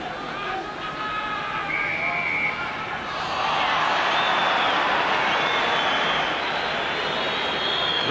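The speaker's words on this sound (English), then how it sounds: "listen to the applause. Applause here from the crowd because of the way New Zealand are playing this game" Rugby crowd at the 1991 World Cup third-place match between Scotland and New Zealand applauding, a broad steady roar of clapping that swells after a few seconds and holds loud, with faint commentary voices early on.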